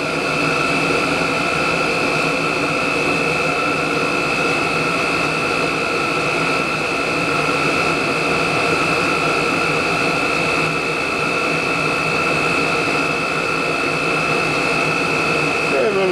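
A Chinese diesel heater running on HV46 hydraulic oil, throttled down low, giving a loud, steady roar with a constant whine and no break in the sound.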